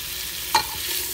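Onion frying in oil in a pan for village-style aloo methi: a steady soft sizzle runs throughout, with one brief clink of stirring near the middle.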